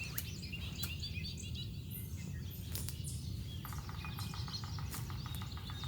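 Wild birds sing outdoors in the Maine woods during spring turkey season, with several overlapping chirps, trills and repeated tweets, some close and bright, over a constant soft background hiss.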